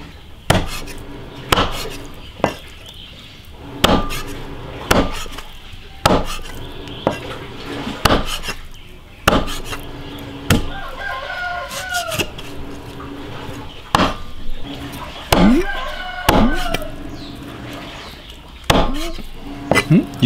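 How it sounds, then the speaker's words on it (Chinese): A cleaver chops pork trotters into small chunks on a board, loud sharp thuds at an irregular pace of roughly one every second or two, with occasional clinks of metal and faint talk between strikes. "把肉切成小坨。"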